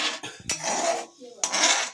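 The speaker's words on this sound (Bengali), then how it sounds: "একটু নেড়ে নেবো।" Utensil scraping and clinking against a pan while caramel is stirred off the heat, several close metallic scrapes and knocks in short bursts with brief pauses, no talking.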